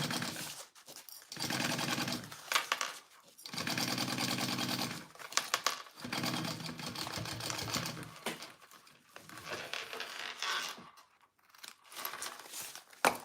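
A sewing machine stitching fabric for a handmade garment, running in several long loud bursts separated by brief pauses, heard close up with no talking.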